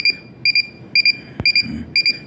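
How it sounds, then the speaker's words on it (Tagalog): An electronic alarm on a wet and dry garbage segregator project beeps in repeated double-pulsed bursts, high and piercing, about five rapid pairs at an even rhythm, with a single click in between and no talk. "Pag mawala na yung alarm, saka na gagana ulit."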